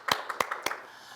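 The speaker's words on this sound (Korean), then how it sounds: "우리 하나님께 영광의 박수 올리겠습니다." A church congregation claps briefly during a Sunday worship service, a few sharp, separate claps rising over a quiet room rather than sustained applause.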